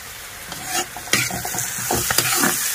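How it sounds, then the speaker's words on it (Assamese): Peas, carrots and paneer being fried and stirred in a pan, a loud close sizzle broken by repeated scraping and clattering strokes of the spatula. "আৰু মটৰ, গাজৰ মিক্স কৰি ভাজি আছোঁ।"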